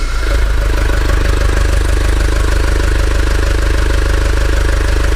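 Diesel common-rail engine running steadily at idle after starting, a constant low rumbling drone that stays close and loud throughout with no voices.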